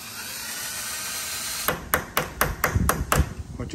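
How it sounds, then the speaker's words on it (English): Steady whine of a drill running, then a rapid series of sharp metallic bangs and pings as the bit bites into a broken head bolt on a 1950 Farmall Cub engine. "I'm gonna start drilling."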